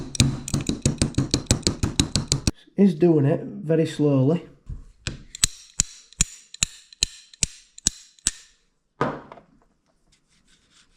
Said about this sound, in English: I'm going to hit this rocker and hopefully knock them both off